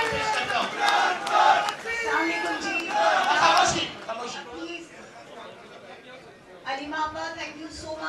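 A large crowd at a Pakistani political rally roars, cheers and claps loudly for several seconds, surging twice before easing into a quieter murmur and then rising again with fresh cheering.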